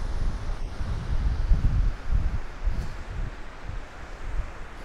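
Wind blowing along a long stretch of beach with low, rumbling surf, a steady windy roar with soft swells of breaking waves throughout and no talking.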